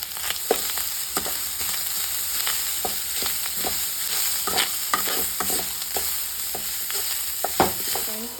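Onion and whole spices for a Goan crab masala frying in a pan while a spoon stirs, giving a steady close sizzle broken by frequent scraping clacks, with no talk.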